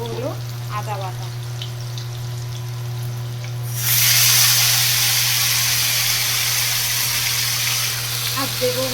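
Nigella seeds and ginger paste hit hot oil in a pan for a Bengali fish curry. A quiet stir comes first with a voice talking, then a loud, sustained sizzle bursts up and keeps hissing steadily.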